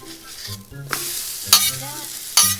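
An egg fries in a pan for a breakfast quesadilla, with broadband sizzling broken by a few sharp scraping or stirring strikes, close and moderately loud, no voices.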